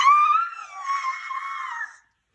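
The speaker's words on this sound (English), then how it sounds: "all the children screamed" Children at a department store Santa display screaming together, one sustained shrill cry lasting about two seconds before cutting to silence, clear and alone.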